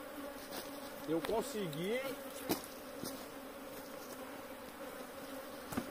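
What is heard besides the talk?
honey bees buzzing around hives during honey harvest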